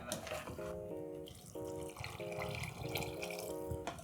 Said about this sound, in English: So you'll add water and then you let it simmer on medium for 5 minutes.